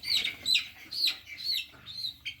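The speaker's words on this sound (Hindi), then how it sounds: "गाइस ये मुर्गा है, ये मुर्गा।" A rooster clucking in a quick series of short, bright calls, fairly close and alone, with quiet background.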